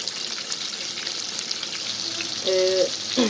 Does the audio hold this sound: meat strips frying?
yes